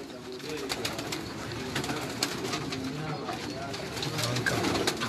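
A banka pigeon coos steadily in low, throaty rolls on a rooftop loft, close and fairly loud, with other birds and clicks around it and a voice talking at moments.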